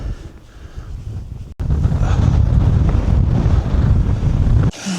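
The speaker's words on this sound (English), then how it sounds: "That northerly wind is absolutely freezing." A strong, cold northerly wind on a hillside roars and buffets the microphone. It is quieter at first, drops out briefly, then surges into loud, sustained gusts.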